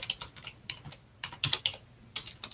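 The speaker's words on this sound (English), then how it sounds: "I'm having a hard time with my typing again." Fingers type on a computer keyboard in uneven bursts of quick, close key clicks with short pauses between them, and no one speaks.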